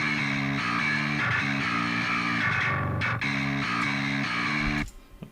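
Distorted metal bass guitar grit tone, a gritty amp-like layer playing a steady chugging riff for about five seconds before cutting off abruptly.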